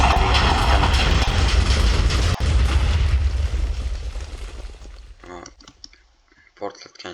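A huge blast from about 45 blocks of dynamite in Minecraft booms as a loud, dense roar that rumbles for a few seconds and then fades into scattered clicks and debris sounds.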